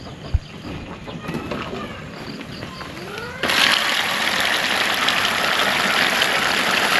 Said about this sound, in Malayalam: അപ്പോൾ നമ്മളിപ്പോൾ മോട്ടർ ഓണാക്കാൻ പോവാണ്.